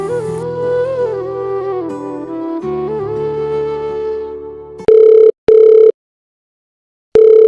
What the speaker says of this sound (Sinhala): අම්මට කෝල් එකක් ගත්තා